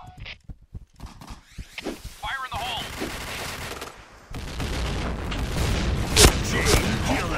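Bursts of gunfire from the shooting game Point Blank, sparse sharp shots at first with a voice talking, then a denser, louder stretch of continuous fire and impacts.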